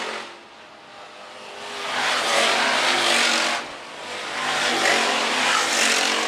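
Hobby stock race cars roar around a dirt track at Phillips County Raceway, engines swelling loudly as the pack passes close by twice, each pass fading slightly before the next surge, with no voices.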